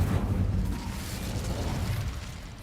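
A fire spell cast in Hogwarts Legacy: a loud, dense burst of flame that roars and crackles steadily for a few seconds with no voice over it.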